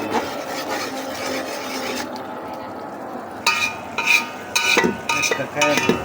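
Beef biryani stirred in a pot with added green chillies, a low simmering hiss that gives way to rough, rasping scrapes of the spoon against the pot in uneven bursts, near and fairly loud, without speech.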